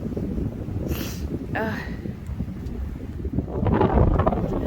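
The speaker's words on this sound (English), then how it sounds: "the wind is still strong" Strong wind buffeting an open cemetery at a church in Old Fort, North Carolina, a loud constant rumbling roar across the microphone with gusts swelling toward the end; a brief voice is faintly heard midway.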